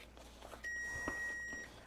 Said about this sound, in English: We are going to stop the timer though, because that is obnoxious.